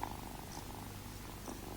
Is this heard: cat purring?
yes